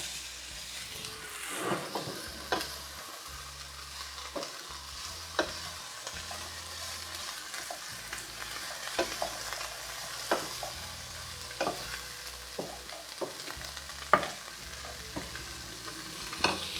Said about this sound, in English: We're going to stir these together.